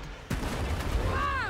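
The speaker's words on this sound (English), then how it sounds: "That is a nice explosion." An explosion in the video game It Takes Two hits with a sudden loud boom, then a rolling rumble and a rising whistling tone as the blast fades.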